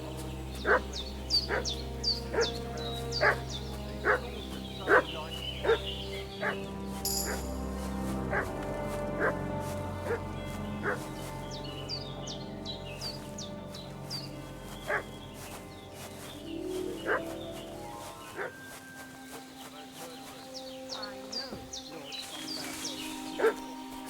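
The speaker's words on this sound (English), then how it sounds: "What's that dog making such a fuss about?" A dog barks repeatedly at a medium distance in the medieval video game Kingdom Come: Deliverance II, the short barks set against steady background music and ambient birdsong.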